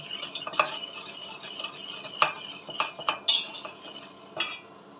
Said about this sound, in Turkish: Şöyle bir yumurtamla şekerimi karıştırıyorum